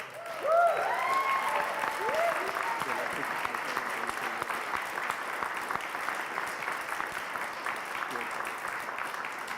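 Audience applause and cheering for hunger strikers at Guantanamo Bay, a brief vocal whoop at the start, then steady clapping from a modest crowd that continues at even strength, moderately distant.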